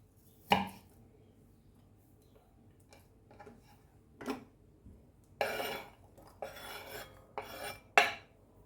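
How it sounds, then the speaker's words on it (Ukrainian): A knife slices a carrot into rounds on a cutting board, with irregular crisp chopping taps and a few louder cuts, close and clear. "Морковку наріжу. Ось такими скибочками"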